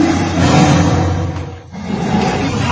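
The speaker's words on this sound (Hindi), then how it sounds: "सबसे पहले तेंदुए की ये दहाड़ सुनिए" A leopard that had entered a family's room in a house in Kanda village, Dharampur, Mandi, gives a loud, rasping, sustained roar lasting almost three seconds, dipping briefly in the middle before swelling again.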